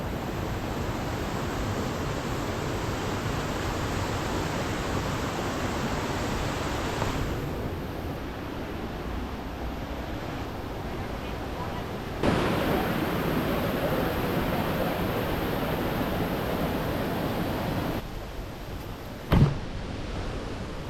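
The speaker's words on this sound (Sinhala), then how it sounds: "ටිකක් සැර වතුර පාරක් එනවන්න අර ගල් දෙබොක්කාව අතරින්" Strong stream of water rushing between rocks near Varnagala reservoir on the Kunudiyapawwa hike route, a steady broadband roar holding for the whole stretch with a few brief shifts and a short knock near the end.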